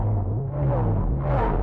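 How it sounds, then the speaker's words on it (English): Synthesized wobbling sound effect from an LFO-modulated frequency shifter and comb filter, a loud continuous tone whose warble speeds up and then slows back down, heard alone. "that creates this wobbling effect that speeds up and then comes down"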